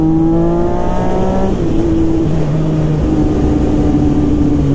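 A motorcycle exhaust on a Diwali group ride of Kawasaki, Triumph and KTM bikes roars loudly and close, its pitch climbing through revs then dropping and settling into a steady drone.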